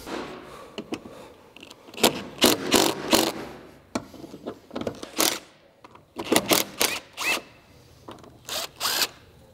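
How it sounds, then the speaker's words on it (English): Bolts on the factory roof rack mount of a Lexus GX470 are backed off in alternation, giving bursts of close ratcheting and scraping metal clicks in irregular clusters separated by brief pauses, with no one talking. "back off one a little bit, back off the next one a little bit, and keep alternating until they both come loose and out"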